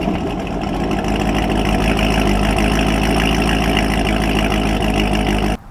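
Chevrolet Corvette C6 Z06 with a Corsa Sport exhaust, its engine loud and close with a deep steady rumble for several seconds before cutting off abruptly at the end.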